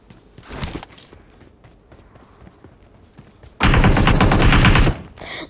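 Gunfire from the PUBG video game, with a short early burst, then a loud, dense, rapid volley lasting over a second, heard alone without speech.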